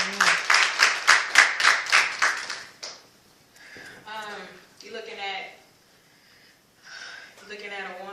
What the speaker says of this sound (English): Give her a hand clap as she comes.